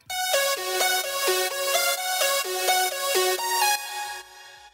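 Progressive house synth lead in FL Studio, processed with reverb, EQ and sidechain compression: a bright, rhythmic melodic riff of repeated notes, pumping with a wider, washed tail that rings out at the end, loud with no voices.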